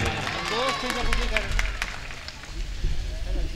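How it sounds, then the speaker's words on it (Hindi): A mushaira audience claps and cheers, a broad crowd roar of applause swelling and holding for a few seconds, with voices talking over the noise. "एक बार जोरदार ताली बजाएं।"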